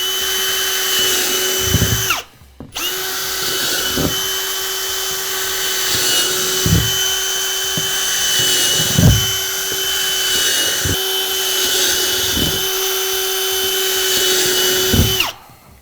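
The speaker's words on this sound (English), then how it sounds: "And then I'll just kind of drill the holes in." A loud power drill whines steadily, pausing briefly once, with a sustained high motor drone and occasional bumps as it bores holes through the bottom of a plastic tub.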